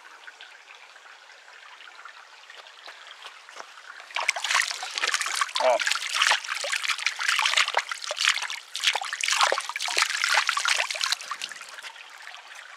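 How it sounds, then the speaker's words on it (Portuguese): Clear water trickles in a small creek near Varzelândia, starting soft and then turning into close, busy splashing and babbling. A voice makes a brief exclamation. "Aí eu tô aqui nesse córrego."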